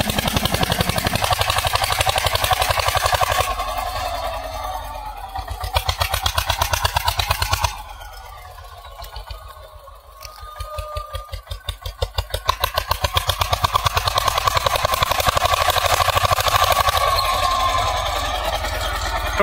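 An Eicher 241 tractor engine labours while pulling a cultivator through a field. It is a loud, continuous, close mechanical drone that dips briefly midway and then returns at full strength.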